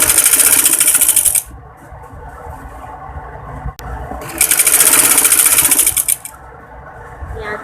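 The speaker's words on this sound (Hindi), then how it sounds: "इस तरह देखिए सिलाई लगाते जाएंगे" Sewing machine stitching a collar seam on a V-shaped neckline, two bursts of fast, buzzing mechanical whirring separated by a quieter pause with a single click, loud and close.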